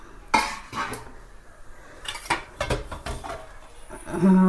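Steel plates and dishes are set out for a meal, with a few sharp clattering clanks and scrapes of metal dishware and cutlery separated by quiet gaps, close by.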